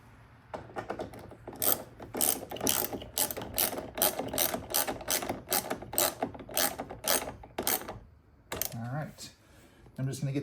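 A hand ratchet tightening the mirror mounting bolts on a Tesla Model Y, with a steady run of crisp, close clicking strokes followed by a short pause and a few more clicks.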